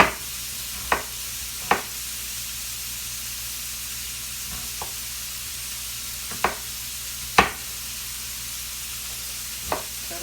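A pork chop sizzles steadily in a hot pan, a constant soft frying hiss throughout, punctuated by several sharp clicks and knocks of a knife or utensil nearby.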